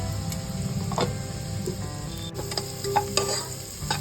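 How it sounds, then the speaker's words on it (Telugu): Onions with salt frying in a pan for mandi biryani rice: a steady close sizzle with occasional scrapes and clinks of stirring, with no talking. "ఇప్పుడు ఆనియన్స్ వేసాం కదా, ఆనియన్స్ తో పాటు కొంచెం సాల్ట్ వేసుకున్నాం"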